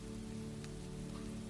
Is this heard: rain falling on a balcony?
yes